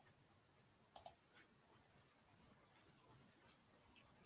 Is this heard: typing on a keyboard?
yes